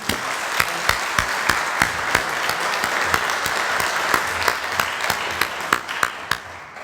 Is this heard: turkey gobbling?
no